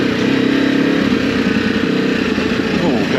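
Ducati Desert X motorcycle engine with throttle in rally mode, a steady loud drone heard on-board while riding off-road, with wind rush over it.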